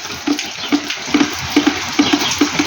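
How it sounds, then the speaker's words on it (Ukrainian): Rain falls outdoors on a rural yard, heard as close, irregular drips and patters spattering over a soft wet hiss, with no voices. "А чому бо в нас дощ паде? класний чудовий дощ."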